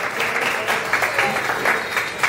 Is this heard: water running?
no